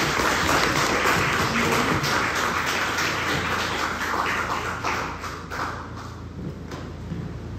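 Audience applause for a university lecture on philosophy, welcoming a Philippine Studies professor to the podium; dense, steady clapping from a roomful of people that fades slightly toward the end.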